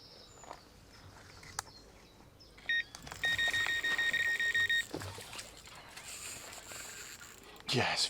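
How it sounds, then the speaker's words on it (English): Electronic bite alarm on a carp fishing rod set up at a forgotten pond, sounding as a run of steady high beeps in the middle, over faint outdoor background and quiet movement. "we'll sit on our hands and wait for the alarms to buzz off"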